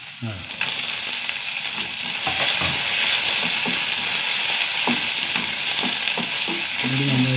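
Red chillies fry in hot oil alongside urad dal, a dense, steady sizzle and crackle close up, with occasional scraping stirs in the pan.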